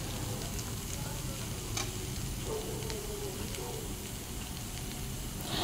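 Chow mein and vegetables sauté in a pan with a soft, continuous sizzle that stays fairly quiet. Faint ticks of stirring come through, and the sound ends with a brief louder burst.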